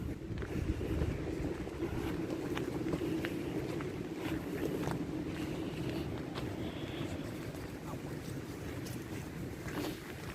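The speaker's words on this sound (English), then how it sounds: "Would the wind make that noise if the trees weren't there?" Wind blowing through trees in the woods on a stormy day, a steady, low, rumbling rush with buffeting gusts on the microphone, sustained throughout without talking.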